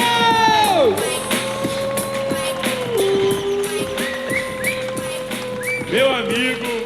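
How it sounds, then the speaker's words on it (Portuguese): Cheering crowd at a business event as a speaker takes the stage, loud sustained clapping and shouts under booming stage music with a tonal sweep, dense and continuous throughout. "Aplausos!"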